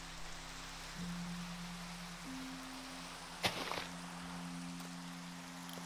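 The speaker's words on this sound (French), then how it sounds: "faut que je me mette à l'abri de la pluie déjà" Steady rain patters softly throughout in a video game, with a low hum underneath and a brief knock or thud in the middle.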